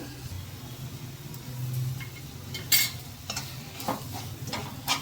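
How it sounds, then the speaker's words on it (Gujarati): A thick green hara bhara kabab paste sizzles gently in a pan over a low flame, with occasional scrapes and taps of a spoon stirring it over a low hum. "ધીમા ગેસ ઉપર જ સાતડવાની પેસ્ટને જેથી કરીને તળીએ બેસી ન જાય"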